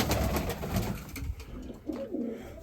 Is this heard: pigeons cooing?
yes